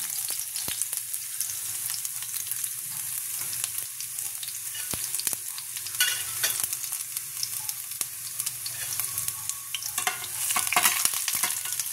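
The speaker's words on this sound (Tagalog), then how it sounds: "alayin muna natin yung bawang" Garlic sautéing in a pan gives a steady, close sizzle, with scattered ticks and scrapes of stirring throughout and a slightly louder burst near the end.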